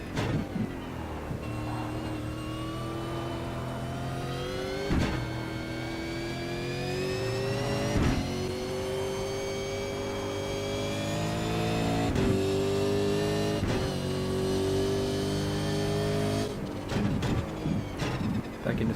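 A V8 race car engine in a racing video game at Zolder revs hard and steadily, its tone climbing and dropping through several quick gear changes, loud and close with no talk.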